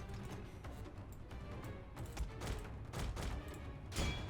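Musket volleys crackle in Shogun 2: Total War, with repeated bursts of scattered shots and a few heavier booms rolling over a busy battle din at moderate distance.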